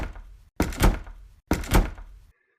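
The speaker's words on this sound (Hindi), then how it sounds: "लेकिन तभी फैक्ट्री के सभी दरवाजे बंद हो गए।" Two heavy factory doors slam shut one after another, each a loud, booming thud with a short ringing tail, separated by about a second and standing alone as a horror-story effect.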